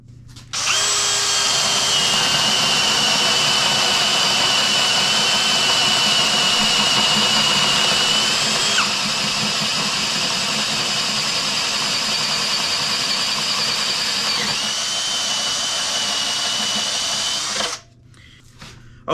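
A Ryobi cordless drill bores steadily with a 1-inch paddle bit, a loud continuous whine holding for about seventeen seconds with slight pitch shifts before cutting off abruptly.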